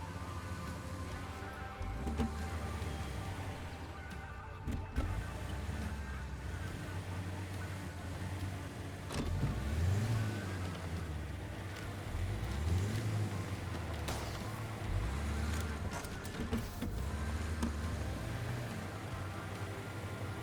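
Ford Expedition in Expeditions: A MudRunner Game grinding uphill, a steady low engine drone with rising and falling revs across the whole stretch, continuous and fairly loud with no talk.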